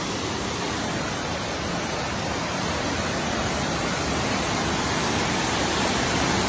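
Pulangbato Falls roars as a dense, constant rush of falling water, loud and steady throughout with no breaks and no voices.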